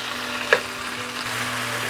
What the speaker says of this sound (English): And saute it along with the mushrooms for about a minute.